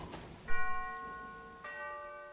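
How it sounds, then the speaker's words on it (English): A doorbell in the video game Arkham Horror: Mother's Embrace rings twice, each ring a clear, sustained bell-like chime. The first is louder and the second comes about a second later, with no talk over it. "Let's ring the bell."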